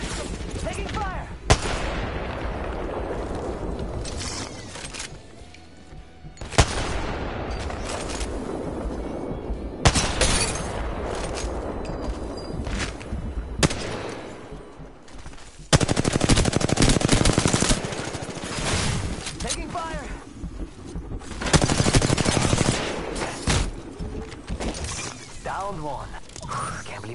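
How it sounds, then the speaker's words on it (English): Video game shootout gunfire: repeated bursts of automatic weapon fire and sharp individual shots, loud and close, with brief lulls between volleys and game voices talking over the action. "Taking fire."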